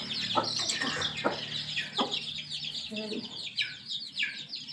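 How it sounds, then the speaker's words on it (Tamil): A Tamil village country chicken clucks in short, scattered calls, with higher chirps and bird sounds around it. "இது வந்து ஒரு சொட்டக்கோழி இருக்குது"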